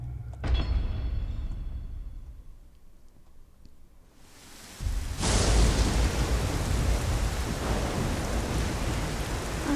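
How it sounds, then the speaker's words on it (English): Rain falls in the Nioh video game world, with a steady broadband wash that drops away briefly and then returns heavier and louder, like a downpour close by, with no talk over it. "Oh, hey, it's that rain thing that I never see."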